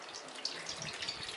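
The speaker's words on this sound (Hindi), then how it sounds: "इसके ऊपर ठंडा पानी डाल देते हैं।" Cold water is poured over drained soya chunks in a strainer, a steady soft splashing hiss, close and continuous with no talking.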